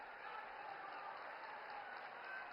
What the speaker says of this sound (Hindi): करतल ध्वनि से स्वागत कीजिए।